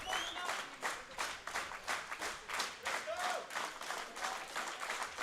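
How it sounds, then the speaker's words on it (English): Crowd at a world classic powerlifting championship, men's 83 kg class, cheering on a deadlift record attempt with steady rhythmic applause and clapping, loud and continuous throughout, no clear talk. "Everyone is cheering him on."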